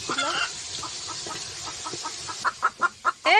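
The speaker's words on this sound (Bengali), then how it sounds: "মুরগিটা ডিম পারবো" A hen clucks close by in a household setting, a run of short rhythmic clucks that grow louder and sharper toward the end.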